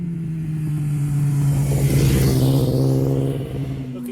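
A Moto2 race motorcycle at a Mexican road race runs steadily after a bump start, its engine holding a loud, close, even drone that swells slightly in the middle before easing off.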